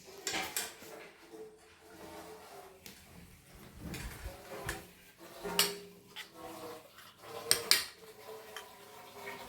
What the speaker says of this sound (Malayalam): അപ്പം ഞാൻ ഇളക്കി കൊടുത്തുകൊണ്ടിരിക്കുന്നു